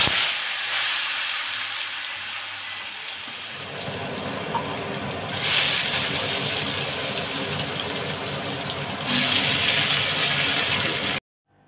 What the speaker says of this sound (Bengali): এখানে আমি আলু কটা ভেজে তুলে নিচ্ছি